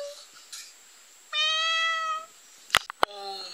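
A person's voice imitates a cat's meow, a drawn-out nasal tone, followed by short clicking noises and a brief second vocal sound, fairly quiet overall.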